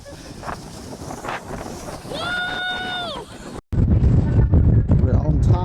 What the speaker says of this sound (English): It's really, really windy up here.